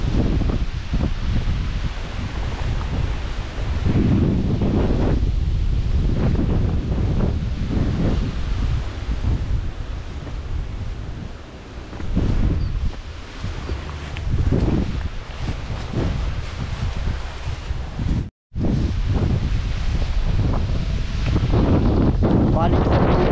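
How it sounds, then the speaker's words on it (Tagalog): Strong, sustained wind gusts buffet the microphone in an open sweet potato field, a loud continuous roar with rustling leaves that swells and eases, and faint talk now and then under the noise. "Napakalakas po ng hambalos."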